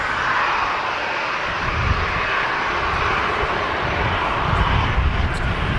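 A Jet2 Airbus A321 jet at Manchester Airport, heard as a loud, steady broadband engine roar that holds constant throughout, with no break and no voices over it.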